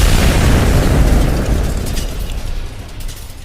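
An explosion sound effect in an Indonesian audio drama: a loud, deep rumbling boom that bursts at once and slowly fades over a few seconds.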